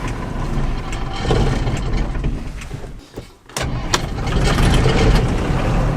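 An abandoned combine harvester's engine runs loud and rough in road gear, with a dip around the middle as the revs drop, then builds back up to a steady roar as speed increases.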